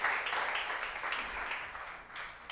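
Congregation applauding in a church during a sermon, a steady wash of clapping at moderate volume throughout, with no pauses.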